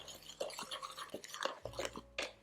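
Dry ingredients for a gluten-free plant-based black bread stirred in a bowl with a spoon, giving close, irregular scraping and gritty swishes with a few sharper clicks against the bowl.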